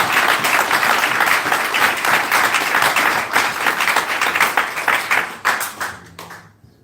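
A church congregation breaks into loud, sustained applause that fills the hall, then thins into scattered claps and fades out at the end.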